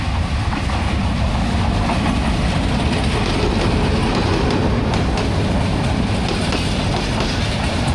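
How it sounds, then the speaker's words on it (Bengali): A train rumbles past at close range beside the Dhaka–Sylhet highway, steady heavy roar of wheels on rails with faint rhythmic clacking, loud and unbroken throughout. "তো এই যে ট্রেন আসছে ট্রেন আসছে যাচ্ছে"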